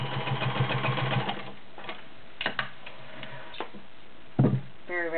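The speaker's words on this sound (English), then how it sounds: "I wouldn't be afraid to sew 10 layers of cotton all day long with it." A Kenmore model 1229 sewing machine stitches through layers of cotton, giving a steady mechanical run that stops, followed by short, close clicks and taps from the mechanism.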